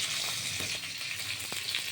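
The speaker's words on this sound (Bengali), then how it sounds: "এই মাছ ভাজা হয়ে গেলে আমি তুলে দেবো" Small whole carp fingerlings fry in a pan with a soft, steady sizzle and faint crackle, quiet and continuous, with a few light stirring clicks.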